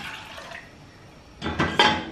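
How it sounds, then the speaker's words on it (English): Two cups of water poured into a cooking pot, a short splashy burst of pouring near the end after a quiet lead-in. "I've got here 2 cups of water, and I'm just going to go ahead and put that in my pot"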